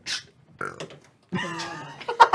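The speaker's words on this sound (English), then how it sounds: "Yes, there's a burp." A drawn-out, throaty burp rings out close and loud during a tabletop role-playing game session, with short voiced sounds around it.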